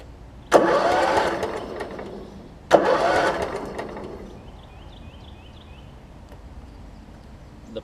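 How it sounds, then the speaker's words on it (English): A Kohler Command engine on a Husqvarna riding mower cranks over in two separate bursts, each a close, loud starter whir that fades without catching, followed by quieter background noise. "That's a good sign. It's cranking over."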